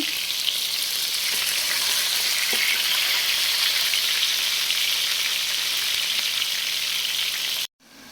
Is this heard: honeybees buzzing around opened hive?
no